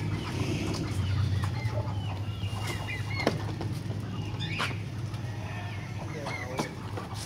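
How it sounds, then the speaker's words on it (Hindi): Turkeys cluck and gobble in short, scattered bursts as they are let out of their pen, a steady outdoor background running beneath the calls. "फखर ने खोल दिया टर्की को"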